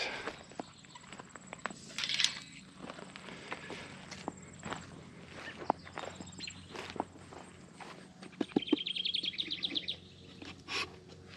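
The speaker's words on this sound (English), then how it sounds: "The bird that's chirping around here might just be a parent" Birds chirp outdoors, with scattered faint calls and a brighter trill of rapid chirps near the end, heard among footstep-like rustles and crunches close by.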